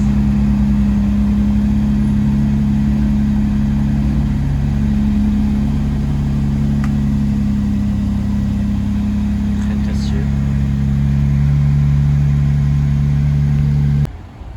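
A BMW M3 and an Audi RS3 idle and pull away at a Paris car meet, a steady deep engine drone with a rising note toward the end, close by and loud.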